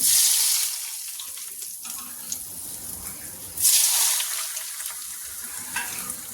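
Heated ghee and oil for a Hyderabadi chicken dum biryani sizzle in bright, hissing bursts, loud at the start and again midway, with quieter crackling between them and no voices.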